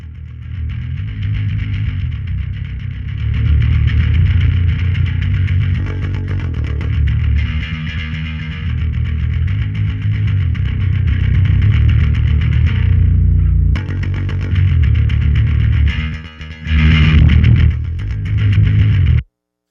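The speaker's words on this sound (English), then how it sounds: "I'm going to try putting this distortion pedal on it" Heavily distorted bass guitar played through a distortion pedal, a sustained, gritty riff, loud and upfront with a brief pause near the end.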